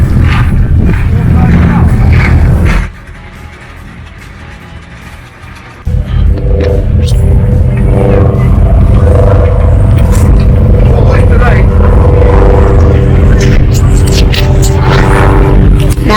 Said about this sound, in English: This is the V10 engine.